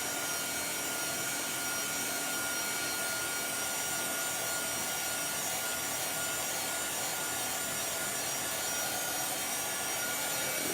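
Hair blow dryer running on its high setting during a wooden Valentine sign craft project, giving a loud, steady, unbroken broadband roar that holds evenly throughout with no talk.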